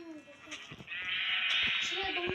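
Several short, wavering Minecraft sheep bleats sound against a synthetic game background, with people chatting over them.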